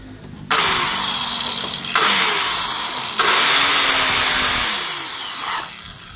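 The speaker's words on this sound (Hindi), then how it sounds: "और उसके बाद ये कटिंग होती है।" A power saw slicing pieces for a shop rack in three loud, sustained passes, each starting abruptly, running about a second or more and cutting off before the next, heard close up with no talk.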